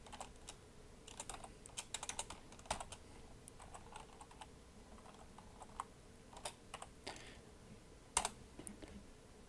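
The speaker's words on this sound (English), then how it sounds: "If we now type this voltage command with a different voltage" A command is typed on a computer keyboard, giving soft, quick, uneven runs of keystrokes with short pauses between them. It sounds close and fairly quiet, with no talking.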